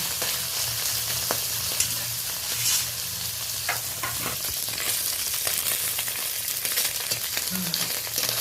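Large egg-bearing mourala fish from a home pond fry in a pan with a dense, continuous sizzle and occasional crackles and pops. The sound is close and steady throughout, with no voices.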